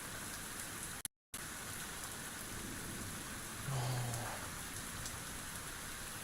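Rain pours steadily in a video game, an even, close hiss of drops that cuts out for a moment near the start, with a brief low rumble joining partway through.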